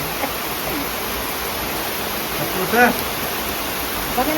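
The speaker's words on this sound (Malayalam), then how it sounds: "അപ്പൊ നന്നായി മഴ പെയ്യുന്നുണ്ട്" Steady, even hiss of heavy rain pouring down around a house, a broad wash of sound throughout, with a faint brief voice-like murmur near the end.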